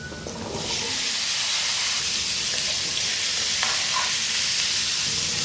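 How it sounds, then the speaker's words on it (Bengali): Potatoes and sweet pumpkin pieces fry together in a pan, giving a steady, close sizzle and hiss that swells after a quiet first half-second and holds at even loudness, with a few faint stirring clicks. "আলুগুলো লাল করে ভেজে নিয়েছি এবার মিষ্টি কুমড়োগুলো দিয়ে একসঙ্গে ভেজে নেব"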